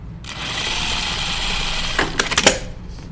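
A sewing machine runs a steady, fairly close whir while stitching the front and back pieces of a pair of slacks, ending in a few sharp clicks and taps.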